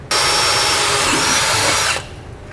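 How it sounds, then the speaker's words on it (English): A power drill bores a pilot hole near a vehicle's control arm while air helper springs are fitted on a 2012 vehicle, a steady loud whirring buzz lasting about two seconds before stopping abruptly. "So now I'm going to drill a pilot hole through the mark that I just made."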